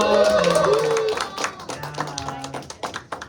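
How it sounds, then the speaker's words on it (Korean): Congregation clapping in a Korean church service after a pastor announces attendance, a burst of claps mixed with crowd noise and voices, loud at first then thinning into scattered taps. "박수."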